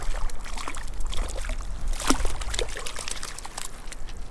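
A hooked brook trout thrashes at the surface of a stream, giving a steady run of close, rushing splashes and trickling water with one sharper burst midway.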